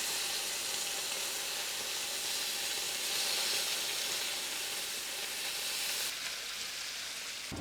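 Bacon slices frying in an unevenly heated pan, a steady close hissing sizzle that runs unbroken throughout and drops slightly in brightness near the end.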